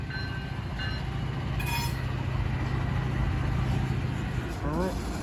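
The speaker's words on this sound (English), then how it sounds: "A remote controlled -8 locomotive built by GE in the early 80s." BNSF GE Dash 8-40BW locomotive 8511, remote controlled, rumbles past with a steady heavy roar of engine and rolling wheels, a brief high squeal and horn-like tone breaking through.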